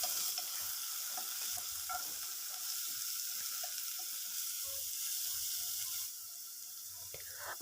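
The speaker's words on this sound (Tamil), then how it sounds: "இதையும் சேர்த்து நல்லா வதக்கிக்கலாம்" Chopped large onions are sautéed with other vegetables for a cabbage stir-fry in a Kerala-style pan, giving a soft, steady sizzle with faint stirring scrapes, fairly quiet and close.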